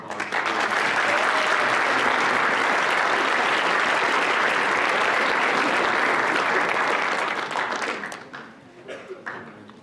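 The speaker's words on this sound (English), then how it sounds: "Let's hear one more round of applause" A school assembly audience in a gym gives a sustained round of applause, many hands clapping steadily for about eight seconds before thinning into a few scattered claps.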